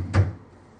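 A small bedside drawer in student accommodation shuts with one short, solid knock and a brief wooden rattle, heard up close in a quiet room.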